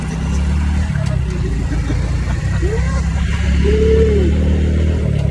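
A motorcycle engine runs steadily close by, its pitch rising and falling as it revs, with road and wind noise throughout.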